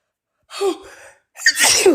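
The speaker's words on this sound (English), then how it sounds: "I had to sneeze." A sharp inhaling gasp followed by a loud, close sneeze bursting out at the end.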